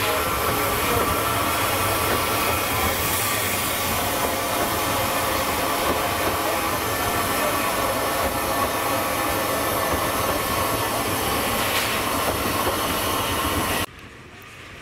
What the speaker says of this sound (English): we passed another of the hourly service trains headed by the 280